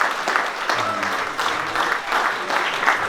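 A crowd at a one-year anniversary gathering of a Tash-Kömür charity group applauds loudly and continuously, with rhythmic surges in the clapping and voices faintly mixed in.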